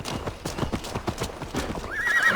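Horses in the video game Assassin's Creed Valhalla, with quick clip-clopping hooves close by and a high whinny rising near the end.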